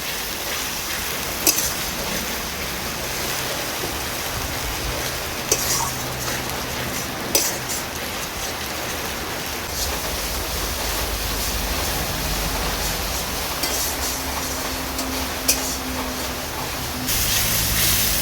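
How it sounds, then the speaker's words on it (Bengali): Spice paste with ground tomato frying in a pan for a Bengali katla fish curry, a continuous loud hiss and sizzle, close, with a few faint clicks of stirring and no voices. "মশলাটাকে আরও কিছুক্ষণ কষিয়ে নেব।"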